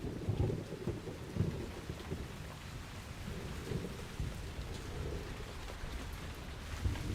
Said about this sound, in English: With so much rain this season, farmers can expect a good crop of rice in the autumn.